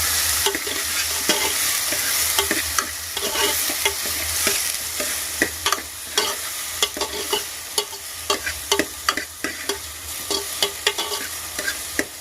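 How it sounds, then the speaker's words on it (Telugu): Onions fry with cloves and cinnamon in a pan for mushroom curry under a dense, close sizzle. A spatula stirs and scrapes in quick, irregular taps that grow sharper and more frequent toward the end. No one speaks. "లవంగా దాచిన చెక్క వేసి ఆనియన్స్ వేసాను, కొంచెం రోస్ట్గా ఫ్రై చేసుకోవాలి"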